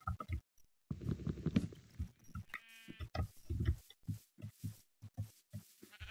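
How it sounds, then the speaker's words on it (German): Sheep bleat in Minecraft, with a few short bleats among soft, patterned game sounds and footsteps, heard faintly at low volume with no speech. "Da sind Schafe."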